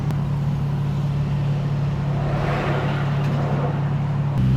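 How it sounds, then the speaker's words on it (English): A 2JZ single-turbo engine in a Mercedes 190E idles with a loud, steady low drone and rising whooshing turbo noise under throttle, with a brief change in tone near the end. "you can hear the turbo, the blow-off valve, and the wastegate just going every time I give it gas"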